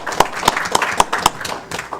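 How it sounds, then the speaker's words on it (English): Scattered claps at a city council meeting, greeting a state representative: about five or six sharp, fairly close hand claps spaced at steady intervals, thin and sparse rather than a full ovation, with no talking. "Let's give him a big round of applause for being here on his night off."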